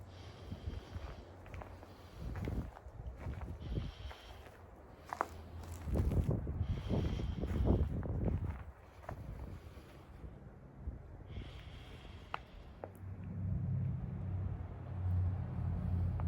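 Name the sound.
strong wind blowing outdoors in snow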